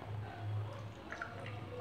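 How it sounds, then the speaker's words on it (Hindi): Water is poured into raw mango panna concentrate filling most of a glass, a faint, brief liquid trickle with soft dripping and gurgling, quiet and with no voices. "अब मैं इसमें पानी डाल रही हूँ।"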